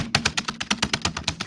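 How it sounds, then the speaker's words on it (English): A computer keyboard hammered hard during typing, close and loud, with about a dozen heavy, evenly spaced keystrokes clattering in quick succession and no talking. "Josh, that keyboard is not going to be okay if you keep hammering"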